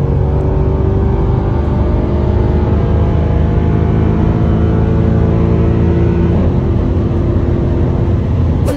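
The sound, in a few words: Mercedes C63 engine revving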